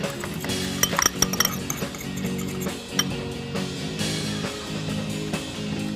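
Spice rub and sugar being mixed in a bowl for smoked spare ribs, a run of light clinks and scrapes of a utensil against the bowl, close, over a steady background murmur.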